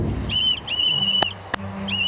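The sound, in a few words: whistle being blown by a girl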